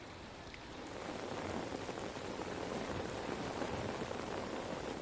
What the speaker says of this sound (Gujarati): વલસાડ અને આસપાસના વિસ્તારોમાં પણ વરસાદ જોવા મળી રહ્યો છે